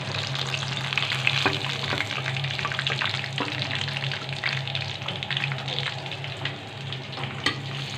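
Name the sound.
chicken broast deep frying in oil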